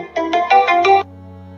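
A mobile phone ringtone rings loud and close, a quick burst of about five bright electronic tones, then cuts off into a low hum.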